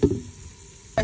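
Raisins fry in hot oil for a clam biryani, a quiet continuous sizzle framed by short bursts of louder crackling and stirring at the very beginning and end.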